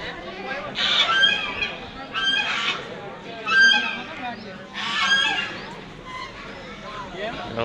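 Geese honk loudly in repeated bursts, several birds calling together, with a crowd murmuring in the background.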